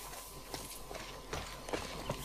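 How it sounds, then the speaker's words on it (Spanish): A horse's hooves clop softly in The Last of Us Part 2 as it walks, a few irregular quiet steps under a constant ambient game background. "Espera, vamos a pillar el caballo."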